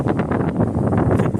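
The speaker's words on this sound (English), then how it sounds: "Super duper windy out today." Strong gusty wind outdoors on a blustery day with gusts near 50 miles an hour buffets the microphone in a loud, continuous roaring rush that swells and dips.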